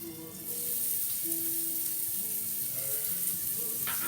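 Chopped onion hits hot oil in a pan for pasta with chickpeas and bacon, and a sudden, close sizzle swells and holds steady, with faint kitchen clatter and a brief clink near the end.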